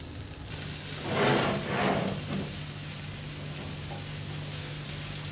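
Chicken Banjara kebabs fry on low flame in a pan, a steady close sizzle with two brief louder bursts of spitting near the start before settling into an even hiss.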